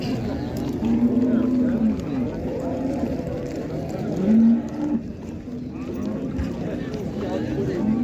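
Cattle low repeatedly at the Karshi livestock bazaar, several drawn-out moos rising over a steady crowd din, with people talking throughout.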